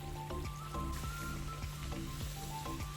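Pumpkin gharge puris fry in hot oil over medium heat, giving a soft, steady crackling sizzle with a low background hum, fairly faint and continuous.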